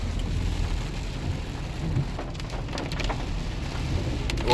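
Steady rain drumming on a car while it drives, a dense constant wash of drops over a low road rumble, with a few sharper splashes and no talking.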